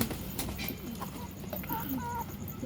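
Pigeons in a home loft, among them a fine-quality female Ablook, give soft, faint coos and murmurs at close range over a low, steady background.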